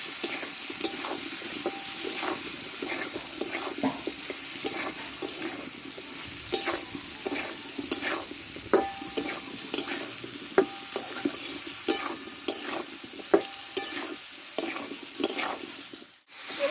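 Potatoes with tomato and green chilies are stirred in a pan for Bengali alu charchori, a soft frying sizzle beneath frequent rhythmic scrapes and taps of a spatula, close and steady before a brief cut near the end.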